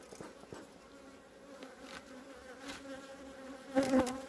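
Agitated bees buzz around a hive, a faint continuous drone with individual insects passing close, one louder buzz near the end.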